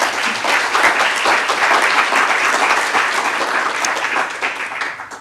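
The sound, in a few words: audience applause at award ceremony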